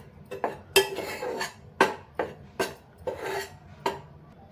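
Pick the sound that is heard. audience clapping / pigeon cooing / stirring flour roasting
stirring flour roasting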